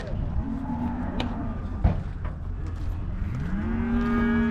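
Cows at a livestock market in Uzynagash, Almaty region, give drawn-out, low moos, one early and another swelling near the end, over a steady murmur of market background noise.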